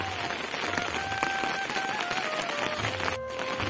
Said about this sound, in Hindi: और बारिश काफी तेज हो चुकी है